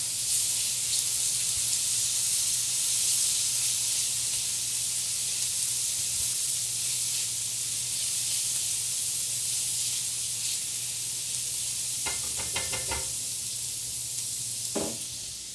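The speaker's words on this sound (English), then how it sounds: "I'm going to give this a light stir and turn the heat down to medium-low." A creamy dill and garlic scape sauce sizzles steadily in a pan, with a constant frying hiss throughout and a few brief scraping clicks from the stirring utensil near the end, and no talking.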